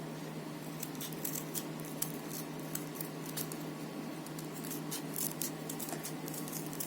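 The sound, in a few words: scissors cutting paper spider web sections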